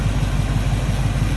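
A 1986 GMC Jimmy K15 4x4 with a Goodwrench 350 V8 idles with a steady, pulsing low rumble, close and alone.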